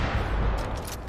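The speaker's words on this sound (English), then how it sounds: "then I'll fire a rocket at them" A rocket fired at enemies in Far Cry 5 on an arcade map lets out a loud, dense, roaring blast that fills the whole moment with a rumbling, crackling burst and no voices.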